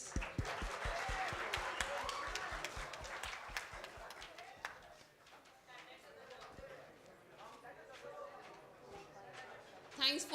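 An audience at a green campus waste management event claps briefly in a light patter of hands that thins out, heard under steady talking and at a moderate distance.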